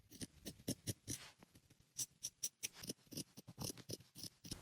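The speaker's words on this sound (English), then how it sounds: "I'm going to cut this extra off and cut as close as I can to the edge of this zigzag" Scissors trim excess fabric close to a zigzag stitch on a thrifted garment, a series of crisp, close snips in an irregular rhythm, quiet overall with short pauses between cuts.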